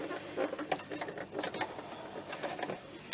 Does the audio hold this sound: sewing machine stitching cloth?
yes